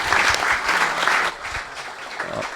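Audience applause fills a room after a tech talk on testing Angular with Docker, a dense steady clapping that is loud for about a second and a half and then thins slightly as it continues.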